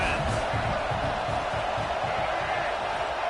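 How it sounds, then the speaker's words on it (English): Dense, steady roar of a stadium crowd at a college football game, loud and continuous with a rhythmic low pulsing underneath, while a commentator talks over it. "This crowd trying to make life miserable for this offense."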